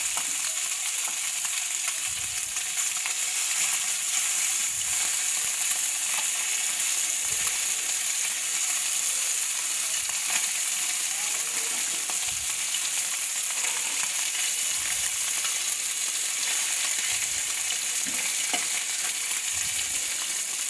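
Chana fish frying in a pan outdoors, a constant bright hiss of hot oil with occasional faint stirring bumps, steady and moderately close for the whole stretch.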